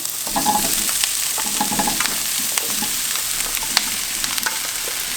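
Diced zucchini and other vegetables for a quick ratatouille cooking in a pot, sizzling steadily while a utensil scrapes and clatters in irregular stirring strokes, close by and without speech.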